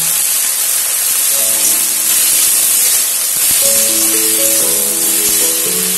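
Garlic frying in oil in a rural Bengali kitchen, with a steady broadband hiss and sizzle throughout, joined midway by faint tonal background sounds.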